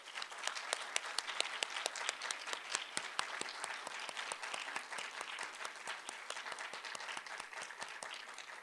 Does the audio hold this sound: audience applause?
yes